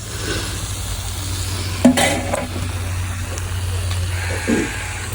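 Jalebi kendai fish frying in a pan with masala, village style, giving a loud, steady sizzle throughout, with a couple of stirring scrapes on top.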